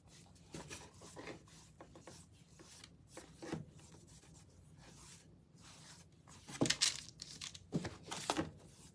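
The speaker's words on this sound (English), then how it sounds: "I'm just going to brush this on. This is bleached sand." A brush sweeps bleached sand stain onto a wooden breadboard in soft, intermittent rubbing strokes, quiet and close, with a few sharper bristle scrapes near the end.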